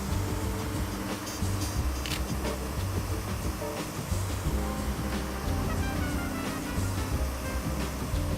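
A waterfall pours in an outdoor setting, making a steady, loud, broadband rush of falling water that continues without pause and with no voices.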